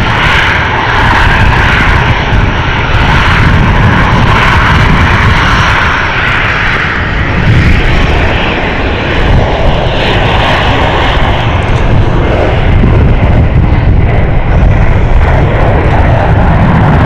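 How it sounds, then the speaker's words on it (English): A Jet2 airliner takes off at Stansted Airport, its jet engines a loud, sustained roar that holds steady throughout, broad and close with no talking over it. "We've also got Jet 2 heading off."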